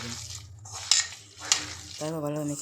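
Onion pakora (piyaju) batter with chili powder being kneaded and mixed by hand in a bowl, giving soft wet squelching and stirring scrapes, with a couple of sharper knocks and a voice speaking briefly at the start and end.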